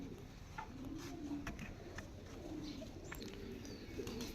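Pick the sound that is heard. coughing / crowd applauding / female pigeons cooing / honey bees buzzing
female pigeons cooing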